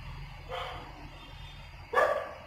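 Dogs bark outdoors at a distance, two short separate barks a moment apart, the second louder, over a low background hum.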